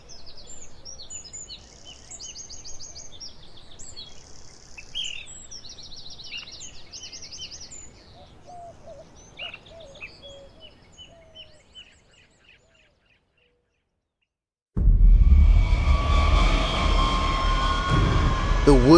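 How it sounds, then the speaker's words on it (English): Many birds chirp and trill in layered songs at a distance, then fall silent before a loud roar of engine noise takes over. "Birds singing very early in the morning."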